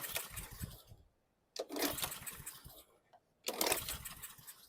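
Troy-Bilt lawn mower engine, freshly dosed with carb cleaner, puffs and sputters in three loud bursts after pull starts, each broadband chugging burst cutting off into near silence.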